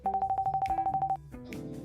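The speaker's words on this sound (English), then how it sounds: "Her train of thought interrupted by a sudden phone call." A phone in the visual novel Angel Wings rings with a rapid run of about fourteen even electronic beeps, loud and close, then stops as softer tones and background music carry on.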